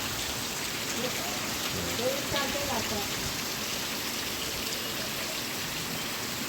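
Steady April rain pours down outdoors in the Konkan countryside, a dense even patter on surfaces, with faint indistinct voices underneath.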